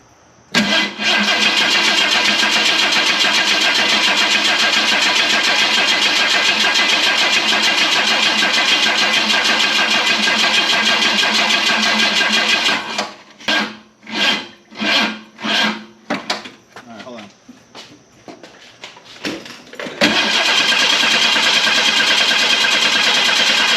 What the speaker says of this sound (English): We're going to probably need to crank this a little bit just to get some fuel up to the engine